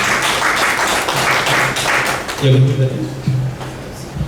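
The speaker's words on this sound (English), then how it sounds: "A round of applause to all these members while they are playing." An audience applauds Rotary club members at a Rotary club gathering. Dense clapping runs for about two seconds, then gives way to softer tonal sounds and a few scattered claps.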